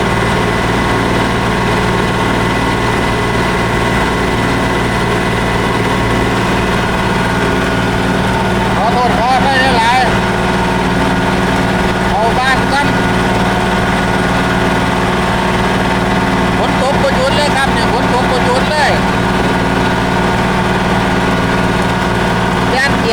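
A tractor's loud engine drones steadily and close while plowing a rain-soaked rice field, a constant heavy rumble that never lets up, with a voice faintly audible beneath it at times.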